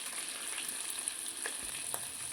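Liver fry with chilli powder, coriander powder and chicken masala powder sizzles steadily in a pan while being stirred, giving a continuous crackling hiss with a few soft scraping strokes, close and moderately quiet with no talk.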